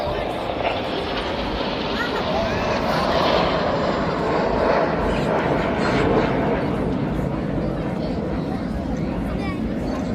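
Red Arrows display jets roar continuously overhead at a seaside air show in Clacton, a loud, broad engine rumble sustained throughout while a commentator talks over it.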